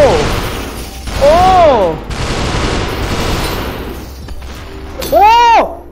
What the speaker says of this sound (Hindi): शॉटगन मार रहा है वो